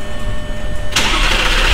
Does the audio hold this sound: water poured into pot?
no